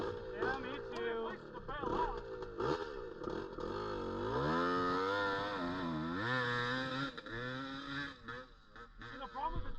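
A two-stroke GPX 450 dirt bike engine revving and bogging as it climbs rocks at Wildcat Pass, loud and close with rising and falling pitch, mixed with voices talking over it.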